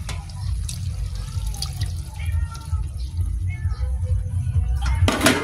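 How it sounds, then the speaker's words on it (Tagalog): Water is poured into a pot of simmering coconut-milk stew of breadfruit-like kamansi, a steady splashing trickle over a low background rumble, close and moderately loud, ending with a brief louder splash. "Dadagdagan natin ng konting tubig."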